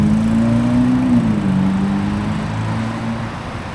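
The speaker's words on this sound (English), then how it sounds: "This car makes a little bit of noise." A Ferrari SF90 driving past on a street in Tokyo, its engine note loud and close at first, then easing in pitch and fading over a few seconds, with no talk.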